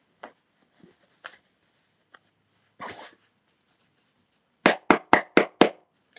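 A few soft scattered taps of tarot cards, then a quick run of five sharp, evenly spaced slaps as the deck is shuffled.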